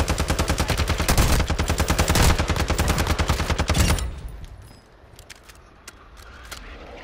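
Hemlock rifle firing in a video game: rapid, loud bursts of sharp shots for about four seconds, then a quieter stretch with a few scattered clicks and distant pops, no talking.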